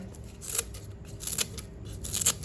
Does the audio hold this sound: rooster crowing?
no